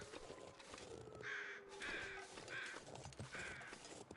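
Crows caw in the snowy survival game The Long Dark, four harsh calls spaced about a second apart over a steady windy background, moderately loud and fairly near.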